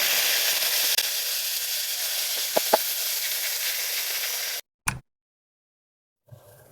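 Onion and tomato sautéing in ghee inside a pressure cooker for rajma biryani give a loud, steady sizzling hiss with a couple of small clicks, then cut off abruptly, followed by a brief clatter and quiet.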